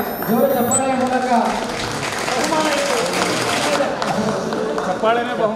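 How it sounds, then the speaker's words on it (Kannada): Audience at a state-level teacher programme at a school applauding, a dense wash of clapping from a crowd, with voices calling out over it. "ಅವರಿಗೆ ಜೋರು ಚಪ್ಪಾಳೆಯ ಮೂಲಕ"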